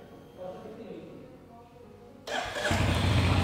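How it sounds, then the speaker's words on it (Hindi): A Royal Enfield Hunter 350 motorcycle engine starts on the first attempt, cranking at about 2.3 seconds and settling into a loud, steady single-cylinder idle close by after a quieter stretch of background noise. "इंजन साउंड सुन लेते हैं, एग्जॉस्ट साउंड सुन लेते हैं।"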